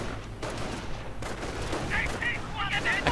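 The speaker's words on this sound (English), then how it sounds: "Riflemen charging in. BARs blazing." Company of Heroes battle with riflemen firing BAR automatic rifles: dense, continuous gunfire and explosions rumble across the scene, with a few high whistling and ricochet-like tones near the end.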